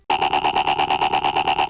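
A buzzy, distorted synth bass tone for drum and bass, made in the Vital synth, pulses in a steady fast rhythm, loud and bright with an LFO-wobbled filter, then stops abruptly.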